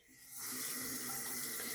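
Hot tap water runs steadily from a faucet into a sink to soak a towel for face washing, starting softly and rising to a loud, continuous splashing hiss that holds for the rest of the moment.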